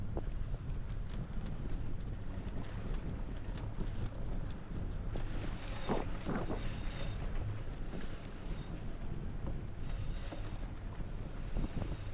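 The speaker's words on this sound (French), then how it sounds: "J'ai démarré le moteur par sécurité quand même" A sailboat's auxiliary engine runs steadily at sea while the boat motors in toward an entrance. The low drone is mixed with constant wind buffeting the microphone, and no voices are heard.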